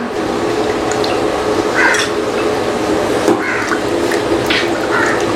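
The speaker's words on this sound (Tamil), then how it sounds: "இது அரிசி கழுவி போட்டுடலாம்." Water sloshing and splashing in a continuous wet stream, with brief rinsing swishes, as grains are stirred and washed in a bowl.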